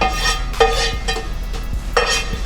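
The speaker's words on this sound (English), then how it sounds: "I'm just gonna finish frying this up here" Food fries in a pan over brown rice while a utensil stirs and clinks against it a few times, close and moderately loud.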